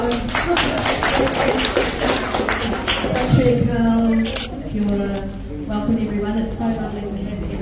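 A small audience claps for a library host, a few seconds of close, scattered applause that fades as talking voices take over.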